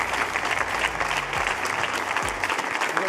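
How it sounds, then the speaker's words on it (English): Applause from the audience at the FIFAe World Cup 2024 Football Manager final, greeting the runners-up as they come up for medals; dense, steady clapping fills the whole stretch, with some low voices underneath. "Big round of applause."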